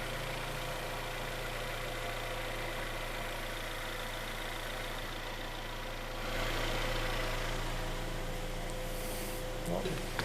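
Rebuilt Hyundai G4KD car engine idling with a steady, even low hum that stays constant throughout and rises slightly near the end.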